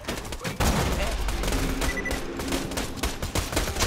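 Gunfire in the shooter game Borderlands 2, a dense burst of rapid shots and fusillade-like bangs that runs steadily through the moment, loud and close with some voices mixed in.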